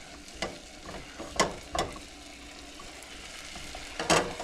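Minced ginger sizzling in a saucepan over medium-high heat, a steady soft crackle with a few louder stirring scrapes, close and without talk.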